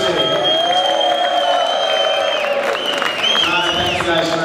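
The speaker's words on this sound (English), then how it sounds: "Huge round of applause for Drew Estate." Festival crowd at CIGARfest cheering and applauding for Drew Estate, a steady loud roar of voices and whoops with a shouting announcer over it throughout.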